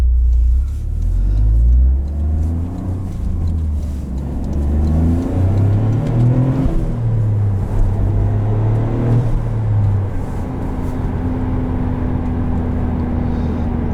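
A 2023 Toyota GR Corolla Morizo Edition hot hatch accelerates hard, its engine note rising through the revs with several gear changes, a loud, deep rumble heard from inside the cabin without talk.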